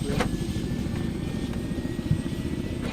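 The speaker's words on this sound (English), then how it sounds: "In the helicopter." An Arma video game helicopter drones steadily and loudly throughout, a continuous rotor and engine roar with faint rhythmic thumps.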